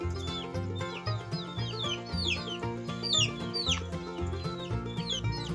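A hen clucks close by in repeated rhythmic bursts, with more hen and chick calls layered over the steady clucking, no talking.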